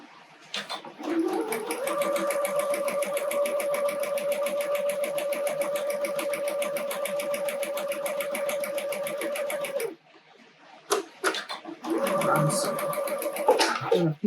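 Sewing machine stitching quilt pieces for a snowman quilt, a steady, fast mechanical whir running continuously for several seconds, pausing briefly, then starting again.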